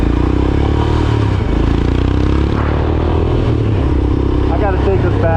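A Royal Enfield Himalayan motorcycle engine runs loud and close on a dirt ride, a steady throbbing drone with clattery mechanical texture and a slight rise in pitch toward the end.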